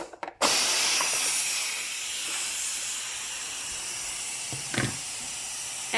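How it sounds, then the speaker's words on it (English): Steam from a Carey smart canner cooking pot roast hisses loudly and steadily after a brief clatter, easing slightly in level and holding as a continuous close rush with a short louder puff near the end. "if you see where the steam is headed, it's heading up on the light"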